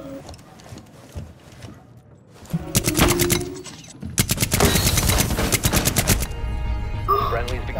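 Rapid automatic gunfire in the tactical shooter Rainbow Six Siege, with a short burst followed by a long sustained volley of sharp, closely spaced shots, loud and near, with a player's voice talking over parts of it.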